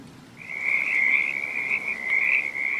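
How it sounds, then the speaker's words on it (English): Frogs croak in a continuous chorus at night in a deserted town square in the rain, a steady, fairly loud trilling drone rising in after a moment and holding on with no talking. "A small, uncomfortable car parked at night in a deserted square in the rain, with frogs croaking."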